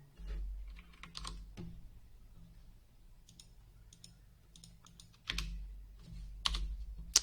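Typing on a computer keyboard: irregular runs of close key clicks and taps, with brief pauses between bursts and a louder flurry near the end, with no talking.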